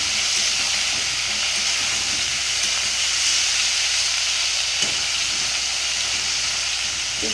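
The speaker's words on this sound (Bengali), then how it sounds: "এবার কিন্তু আমি এর মধ্যে বেগুন আর পেঁয়াজ আর লঙ্কা দিয়ে দিলাম ভাজতে" Brinjal, onion and green chili frying in a pan, a steady, even hiss and sizzle that holds loud and close throughout, with no voices over it.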